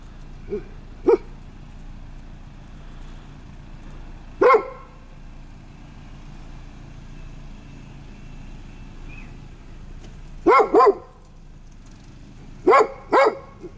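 A dog barks in scattered short bursts, a single woof then a couple of quick doubles, over a low steady background hum.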